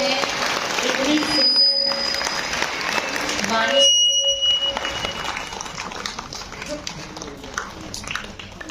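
An audience claps at a Shiv Jayanti celebration in Raman Mandi, a dense steady wash of applause with a brief dip midway, while a voice talks over it.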